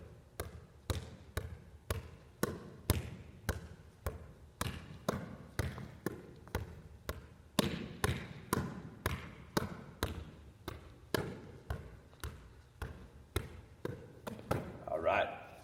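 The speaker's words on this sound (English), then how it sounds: "with one hand, we're going to try to volley this ball up in the air several times in a row." A volleyball struck upward again and again with one hand in a PE lesson, a steady series of about two dozen sharp slaps roughly every half second, close and alone with no talk.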